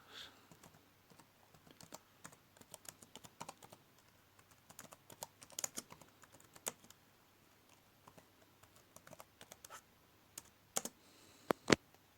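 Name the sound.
typing on a computer keyboard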